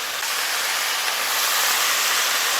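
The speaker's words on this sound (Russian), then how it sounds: "Добавим воды." Water poured into a kazan pot of kebab stew with potatoes, a steady close rushing splash that holds continuously for under three seconds with no talk.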